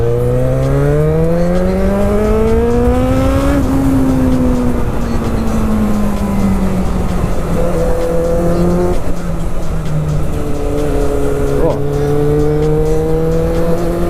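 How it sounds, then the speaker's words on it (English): Suzuki GSX650F motorcycle engine revving on the road, loud and close, the pitch climbing through rising revs, dropping back and climbing again in several sweeps under steady wind noise. "This is another section where I get to make some funny sounds on my bike."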